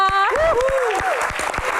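Studio audience at an Indonesian TV talk show applauds the guests as they are introduced, a dense clatter of clapping mixed under a host's raised speaking voice.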